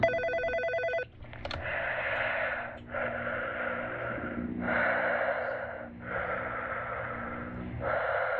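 Telephone in a video game rings with a bright electronic trill for about a second near the start, followed by heavy, rhythmic breathing.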